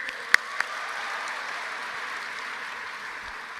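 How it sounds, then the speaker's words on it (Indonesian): Steady applause from a large crowd at an Indonesian government event, a continuous wash of clapping with a couple of sharper claps near the start. "Tepuk tangan."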